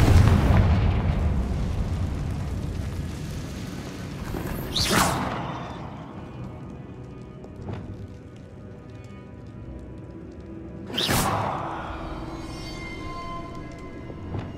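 A Confringo spell explosion in the Hogwarts Legacy video game: a loud sharp blast with a bright crackling burst, a second similar burst following several seconds later, each decaying into a rumbling tail over a low ambient background.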